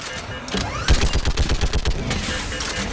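Rapid bursts of gunfire in the video game Mass Effect 3, a fast run of loud shots in quick succession under a dense battle din, with a voice shouting over the fighting.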